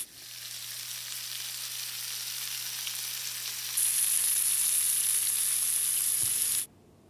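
Bacon fries in a pan with a steady, close crackling sizzle that holds evenly throughout, over a low hum, before cutting off near the end.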